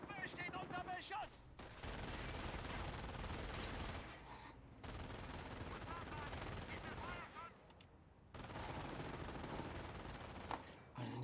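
Sustained machine gun fire and fusillades hit a squad in Company of Heroes, with long, dense bursts broken by short gaps and distant booms, while voices speak German over the battle.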